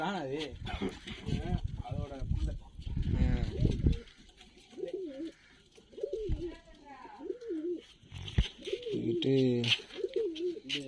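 Pigeons of a homebred flying breed coo in a loft, their soft rounded calls heard under steady nearby talk in Tamil.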